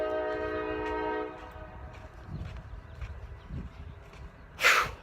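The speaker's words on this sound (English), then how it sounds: "Right when I get going, I have to deal with the damn loud, noisy ass train." A nearby train sounds a long, loud horn blast, followed by a lower rumble and clatter of the passing train, with a brief sharp burst of noise near the end.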